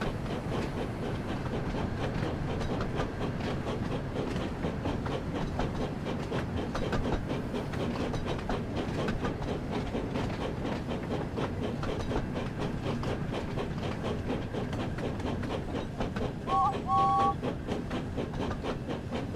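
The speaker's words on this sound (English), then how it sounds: "this is James's goods train" James's goods train from the Thomas and Friends game rolls along steadily with a continuous chugging rumble and rhythmic clatter, and a short whistle sounds near the end.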